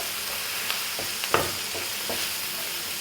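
Beef coated in masala roasts in a pan with a steady, moderate sizzle, punctuated by a few soft scrapes and taps of stirring, close and alone without voices.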